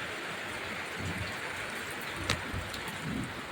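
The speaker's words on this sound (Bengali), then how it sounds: "বৃষ্টি নামতেছে" Rain falling outside, a soft continuous hiss of drops on surfaces with a few faint louder taps, distant and low, no one talking.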